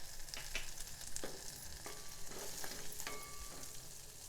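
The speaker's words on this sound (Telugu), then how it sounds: "పచ్చిమిర్చి కొంచెం వేగినాక 1 స్పూను ధనియాలు, 1/2 స్పూన్ జీలకర్ర కూడా వేసుకొని వేయించుకోవాలి." Green chillies, coriander seeds and cumin frying in hot oil in a pan for an amla and coconut chutney: a steady close sizzle and crackle broken by scattered clinks of stirring, with no talk.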